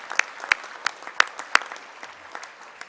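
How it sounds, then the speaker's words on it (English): A small audience at a sports hall of fame induction ceremony applauds a sponsor, a few loud, separate nearby claps over a soft patter that fades out within seconds. "How about another round of applause for the guy making this all possible tonight,"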